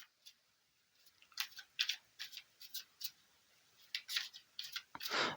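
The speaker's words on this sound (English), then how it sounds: "I'm going to pull one of these cards here." A card pulled from a deck, heard as soft, close paper slides and light flicks that grow busier toward the end, with no talking.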